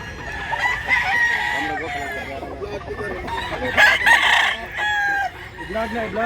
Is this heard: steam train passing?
no